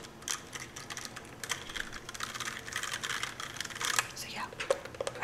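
Steady, fast typing on a computer keyboard, a continuous patter of clicky keystrokes with a few louder taps, fairly close.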